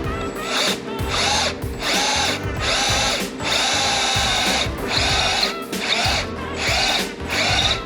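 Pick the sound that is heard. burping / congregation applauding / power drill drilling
power drill drilling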